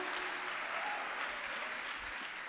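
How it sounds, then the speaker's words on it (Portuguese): A congregation at a women's church gathering claps together, a continuous wash of applause that sounds fairly distant and muted, with faint low voices underneath. "Aplaude ao Senhor Jesus bem forte."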